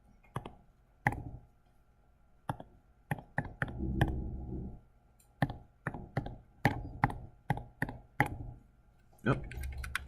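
Keys tapped on a calculator during a physics class, a series of sharp separate clicks at an uneven pace, with a brief murmur of voices in the middle.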